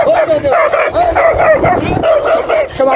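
A dog barks and yips excitedly in quick, repeated bursts, loud and close, continuing without pause throughout.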